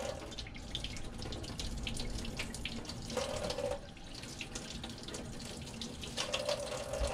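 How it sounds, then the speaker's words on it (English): Water runs steadily from an RV faucet while the fresh water line is flushed, a continuous close hiss and splash with brief louder surges, heard alone. "it'll take a little while for the water to reach here where we're flushing out the line"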